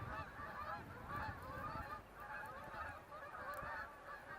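A flock of geese honks in a steady chorus of overlapping calls. The birds sound distant and faint outdoors in spring, and no one speaks.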